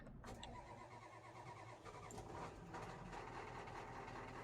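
Truck engine starting in Farming Simulator 22, a starter crank and then a deep, steady rumble of the idling motor that stays loud and close throughout.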